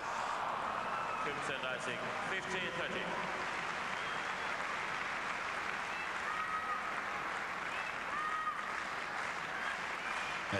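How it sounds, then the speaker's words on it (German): Noisy indoor tennis hall crowd at an ATP Finals semifinal, continuous murmur, cheering and scattered shouts and calls over a steady background roar, with a voice speaking over it. "Es ist ziemlich laut in der Halle,"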